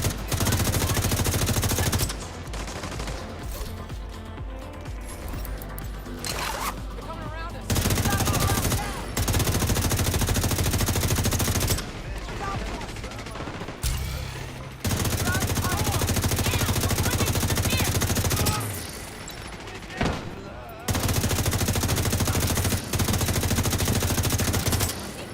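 Assault rifle and SMG fire in the video game The Division 2, long automatic bursts rattling in repeated stretches, broken by brief quieter gaps, with occasional talk mixed in.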